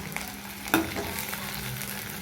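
Chopped onions and curry leaves sautéing in oil in a pan, a continuous close sizzle with a brief stirring scrape near the start.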